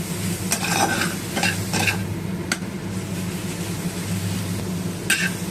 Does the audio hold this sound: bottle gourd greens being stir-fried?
yes